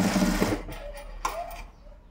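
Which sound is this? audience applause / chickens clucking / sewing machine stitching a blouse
sewing machine stitching a blouse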